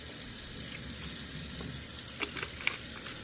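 Hot tap water running steadily into a container to make a dilute bleach soak for homegrown luffa, a constant hissing gush with no talk.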